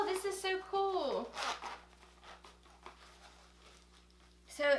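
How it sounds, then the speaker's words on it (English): Zipper on a picnic set case pulled open in a few quick, faint rasps, close by and mixed with rustling, as a person talks over it. "then there's a zipper"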